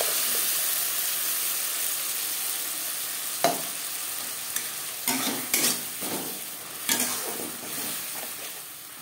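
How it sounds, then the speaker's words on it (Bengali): A spatula stirs masala paste into onions in a hot pan for egg curry, a steady sizzle underneath with several distinct scraping stirs clustered toward the end. "পেঁয়াজের সাথে মশলা বেশ ভালো করে মিক্স করে দেবো"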